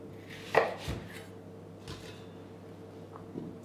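A knife chops vegetables on a board in a kitchen: a few sharp, separate close thuds spread out over a quiet background, no talking.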